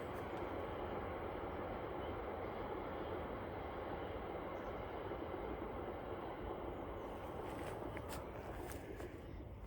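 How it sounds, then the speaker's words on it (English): A low, steady rumble of a far-off train carries on throughout, broad and continuous, with faint scattered ticks near the end. "I can hear a train off in the distance."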